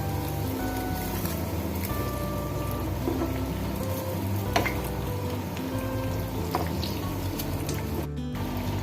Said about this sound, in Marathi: एका साईडनं चांगले भाजल्यानंतर वडे चांगले मंद गॅसवरच ठेवून द्यायचे।